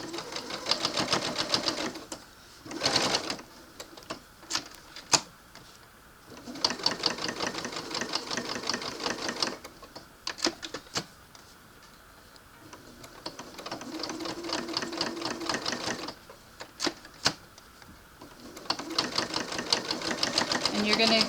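A home sewing machine stitches fabric for a soft baby lovey, whirring in several runs of rapid needle clatter separated by pauses, with someone talking over and between the stitching.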